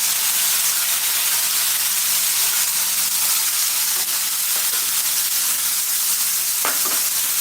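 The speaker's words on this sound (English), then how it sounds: "Now let's add our chopped tomatoes." Chopped tomatoes going into browned onions frying in a pan for chicken curry, a loud, continuous sizzle and hiss with a few brief clinks of stirring near the end.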